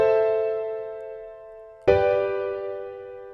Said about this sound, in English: So now our chord progression sounds like this.